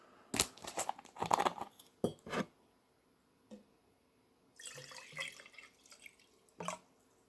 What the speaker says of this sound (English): I'm going to be pouring them into this glass. Hopefully, make some sounds.